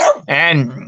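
A dog lets out a short bark and yelp at close range, loud and brief, with a spoken word just before it.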